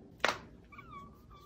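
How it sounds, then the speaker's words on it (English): A stray cat indoors in a home gives one sharp, close meow followed by a softer, drawn-out whiny cry, with quiet room background and no talking. "the dirty cat is in our house"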